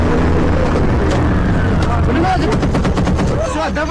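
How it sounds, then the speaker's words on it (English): Rapid bursts of .50 caliber heavy machine-gun fire crack over a rumbling engine, the rattling shots growing denser toward the end amid distant voices. "We now hear the 50 cal firing."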